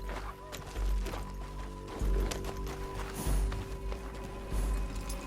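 Hooves clip-clop in a fast galloping rhythm, with heavy thumps recurring every second or so over a game soundtrack and a faint voice.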